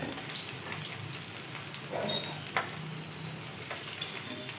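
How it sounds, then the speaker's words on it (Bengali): Fish frying in a pan, a faint steady sizzle with a few soft clinks and pops, no talk. "মাছটা ভাজা হয়েছে মাছটা এখন আমি নামিয়ে নিচ্ছি"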